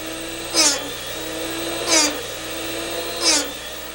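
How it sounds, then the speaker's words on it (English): A Drill Doctor Classic 400 drill bit sharpener hums steadily while a bit is ground in three short, evenly spaced bursts, each a rising high-pitched whine. "Then you sharpen the bit."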